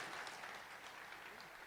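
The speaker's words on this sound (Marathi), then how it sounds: "मला वाटतं एकदा जोरदार टाळ्या व्हायला पाहिजे एवढ्यासाठीच" An audience applauds loudly and continuously at a public interview event with Chief Minister Devendra Fadnavis, a dense, steady wash of clapping from a large crowd.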